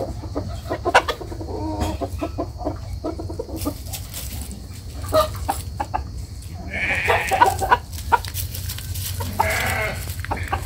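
A rooster and hens cluck and call close by amid other farm animal noises and rustling, with loud bursts near the end.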